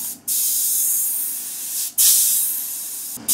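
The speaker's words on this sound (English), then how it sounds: "holding the airbrush as close as possible to the lure so as not to get any overbleed" An airbrush sprays paint onto a fishing lure in close, loud, continuous hissing bursts, broken by two short pauses where the spray stops and restarts, with no voices.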